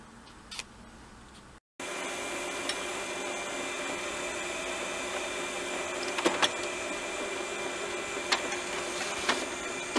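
A printer runs steadily while feeding a paper roll, giving a continuous mechanical whir with periodic clicks and ticks; it starts after a brief silent gap and stays constant and close to the microphone.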